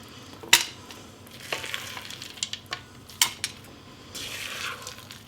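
Thick apple cake batter with chocolate chips and nuts being mixed by hand in a bowl, with a few sharp utensil scrapes and knocks against the bowl and softer stirring between them, close and fairly quiet with no voices.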